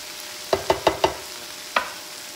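A spoon or spatula stirs garlic, ginger, onions and purple carrots in a pan, making close, crisp scrapes: four in quick succession, a short pause, then one more. No voices are present.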